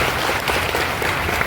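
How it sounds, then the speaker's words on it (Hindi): A crowd at an outdoor International Tribal Rights Day gathering breaks into dense, loud, continuous clapping that fills the whole short stretch. "उनके लिए जोरदार ताली बन रहे हैं।"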